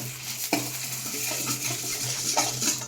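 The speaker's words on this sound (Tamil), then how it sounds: "அதுவும் சேர்த்து வதக்கிடலாம்." Cinnamon, cumin and pepper sauté in a pan, giving a soft steady sizzle with a few sharp clinks of a spoon stirring against the metal, close and alone with no talk.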